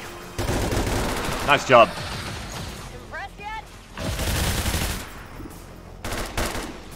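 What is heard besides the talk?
gunfire in video game XCOM 2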